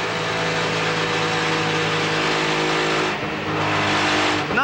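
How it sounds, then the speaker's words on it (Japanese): A Group A Nissan GT-R race car with a suspected engine fault drones loudly past with a steady, buzzing, strained engine note that dips briefly partway through, with no talk. "グループ A GTR だけど、ちょっとエンジン音がおかしくないかい"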